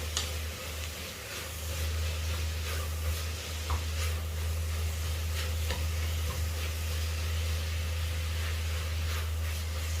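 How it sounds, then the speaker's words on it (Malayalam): Spices with chopped ginger and garlic sauté in a pan for a camel curry, a dense steady sizzle filling the whole stretch with a low hum beneath and occasional scrapes and taps from the stirring spoon, close and even, without voices. "എല്ലാം കൂടി ഇളക്കി യോജിപ്പിച്ച് കൊടുക്കുകയാണ്."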